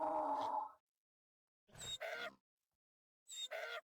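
Baby mule mob sounds from the Minecraft video game, a low braying call followed by two short squealing bursts, separated by silence, close and clear with no speech.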